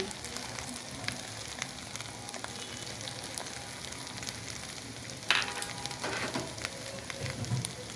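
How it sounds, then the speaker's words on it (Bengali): Ghee goes into a hot pan for chicken biryani and sets off a continuous close sizzle and crackle, with a sharp spitting burst partway through and faint stirring scrapes, with no voices. "এখন দিয়ে দিচ্ছি ঘি"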